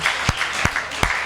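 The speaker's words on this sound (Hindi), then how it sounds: "अगर समझ गए हो तो तालियां बजाओ भाई" Audience at a trade honours ceremony and poetry recital in Hapur gives a short burst of applause, with three sharp clap-like hits standing out against a steady crowd hiss.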